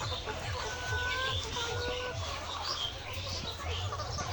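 Several layer hens cluck softly and intermittently nearby over a steady background hum, with occasional higher chirps.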